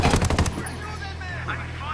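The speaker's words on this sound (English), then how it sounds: "Opening fire." Gunfire in the video game Ghost Recon Wildlands: a loud, rapid burst of shots for about half a second, then a low steady rumble of game ambience.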